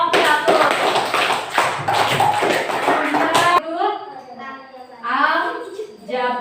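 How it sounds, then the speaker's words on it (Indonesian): A classroom of students claps for a project group, a loud burst of rapid hand clapping lasting a few seconds, then children's voices chatter as it stops. "Tepuk tangan untuk kelompok 1."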